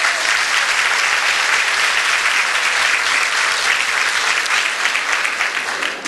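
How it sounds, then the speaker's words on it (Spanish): Loud, dense applause from a lecture audience for a spiritist speaker, a continuous wash of many hands clapping at once that holds steady and fades slightly at the end. "Un aplauso para él, por favor."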